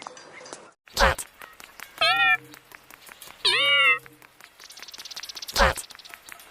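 A close cat gives two clear, plaintive meows a little over a second apart, framed by short noisy bursts at the start and end.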